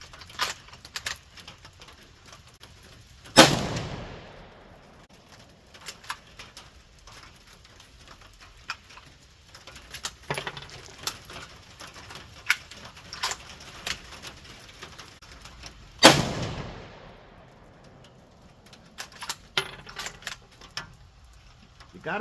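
Ruger American Gen 2 bolt-action rifle in 6.5 Creedmoor firing Winchester XP ammunition outdoors: two sharp, loud shots roughly thirteen seconds apart, with metallic clicks and clatter of the bolt being cycled in between.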